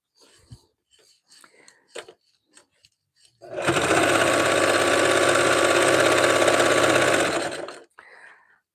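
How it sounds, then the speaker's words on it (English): A sewing machine runs in one steady, continuous burst for about four seconds as it stitches batting strips for a fabric rag rug (a jelly roll rug). Sparse handling clicks and rustles come before and after the run. "2/3 through sewing the batting strips"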